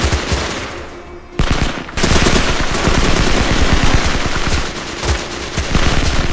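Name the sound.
anti-aircraft gun and gunfire in war movie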